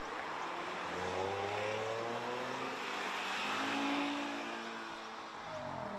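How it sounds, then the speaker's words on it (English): Audi R8 cars, V8 and V10 models, drive through a rally stage, engines humming and rising as they rev and pass at a moderate distance, a continuous low motor drone with shifting pitch. "several Audi R8s streaming through the stage as we speak"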